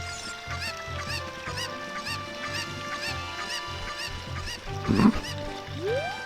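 A chicken (cucco) in the video game Zelda: Ocarina of Time lets out a brief, loud squawk near the end, over steady looping game music.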